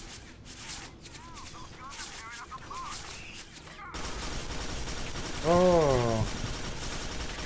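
Enemy turret gunfire in the Quake 4 video game rattles in rapid bursts, quieter at first and then louder and denser after the midpoint, with a man's brief exclamation over it.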